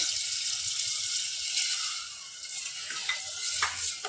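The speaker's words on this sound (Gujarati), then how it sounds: "હવે આપણે એમાં જરૂર મુજબ પાણી રેડીશું." Water poured into a cooking pot of stuffed brinjal curry sets off a steady broadband sizzle with faint splashing, close and continuous throughout, no voices.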